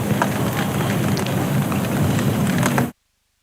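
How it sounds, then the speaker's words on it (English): Rain patters steadily on an outdoor effects microphone at a county championship cricket match, a dense, even hiss that continues alone for nearly three seconds before cutting off abruptly. "of rain on our effects mic"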